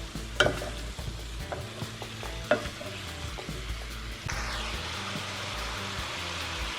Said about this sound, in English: Gonna mix it really well. Let all those spices get in with the vegetables and the herring.